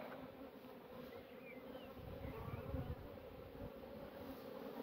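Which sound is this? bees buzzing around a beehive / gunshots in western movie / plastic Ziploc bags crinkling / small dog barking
bees buzzing around a beehive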